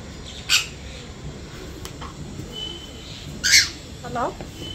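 A female African grey parrot gives a few sharp, shrill squawks spaced seconds apart over low, steady background noise at a bird boarding facility.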